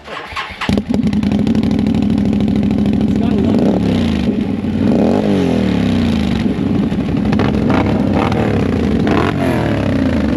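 A loud, rumbling off-road UTV engine with aftermarket exhaust idles steadily with a deep, throaty exhaust note and a few revs, while a person talks briefly at the start.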